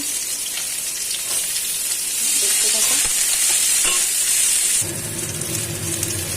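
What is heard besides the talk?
bitter gourd frying in oil with turmeric and salt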